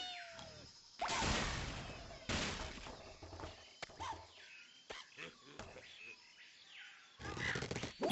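Angry Birds video game birds smashing into a structure, with several loud crashing, shattering bursts separated by quieter stretches of game sounds and birdlike chirps.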